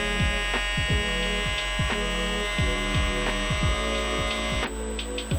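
A CNC mill spindle spins at 13,000 RPM cutting brass for an RC buggy weight, a steady high hum with a regular rhythmic pulsing throb about twice per second, close and continuous with no speech.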